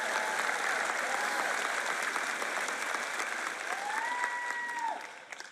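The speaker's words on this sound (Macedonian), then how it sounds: "Сега може да ракоплескате и да галамите." A large church congregation claps loudly and steadily, with some voices rising through the applause, before it thins out at the end.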